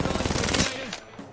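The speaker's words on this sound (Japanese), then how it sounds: "発砲中" Rapid automatic gunfire from a weapon in Apex Legends, a dense burst of loud shots for about half a second before cutting off, leaving quieter game sounds.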